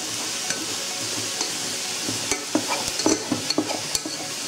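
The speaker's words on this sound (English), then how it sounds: "just stir this real quick so it doesn't burn in the bottom" A spoon stirs a pot of high-protein food, unplugged from its heat, with scattered close scrapes and knocks over a steady faint sizzle, no voices.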